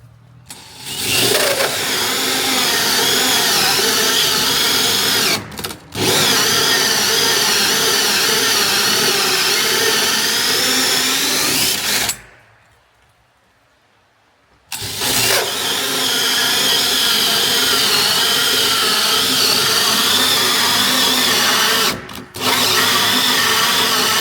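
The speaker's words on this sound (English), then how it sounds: "then you want to drill almost all the way through and then finish drilling it from the inside" A loud power drill runs continuously, grinding steadily through wood of a barrel sauna, with a brief pause partway through, then starts up again and keeps going.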